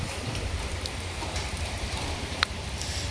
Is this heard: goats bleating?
no